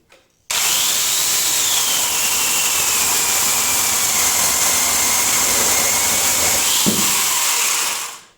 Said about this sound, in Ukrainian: Максимальні оберти болгарки.